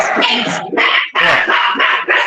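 Several dogs bark loudly and repeatedly at close range, in rapid overlapping bursts with brief gaps, drowning out everything else.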